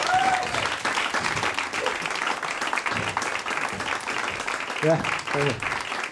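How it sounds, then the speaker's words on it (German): A pub comedy audience gives a comedian a strong round of applause. Steady, dense clapping runs throughout, with someone speaking briefly over it near the end. "Nochmal einen kräftigen Applaus und richtig, richtig Vollgas nochmal für Daniel Lenz"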